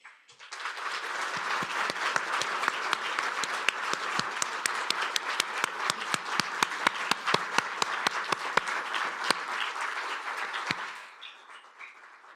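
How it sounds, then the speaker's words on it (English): An audience at a presidential award ceremony claps steadily for about ten seconds, full dense applause with a few sharp close claps standing out, before it tapers off into near quiet. "let's give Mr. Nichols a huge round of applause"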